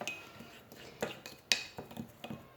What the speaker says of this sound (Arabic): نخلطوا هاد المكونات بجوج بهم